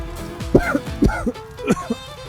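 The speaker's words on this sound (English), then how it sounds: "Hale coughs, at first real, then doubles over, exaggerating his distress." A man coughs in several harsh bursts spaced across a couple of seconds, loud and close, with no other voices.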